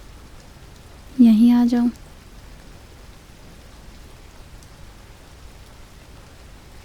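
Steady Mumbai rain falls as a soft, constant hiss in the background, and one short spoken phrase briefly rises over it.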